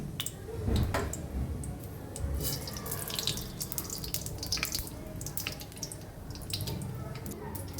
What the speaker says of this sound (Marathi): चला हे पण फुटलेलं आहे जिरे मोहरी